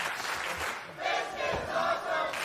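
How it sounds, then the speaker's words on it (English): A wrestling crowd at a Ring of Honor tag match roars and rallies in swelling waves of cheering and shouting that rise and fall across the whole stretch, dense and fairly close. "The crowd rallying around the great action they're seeing"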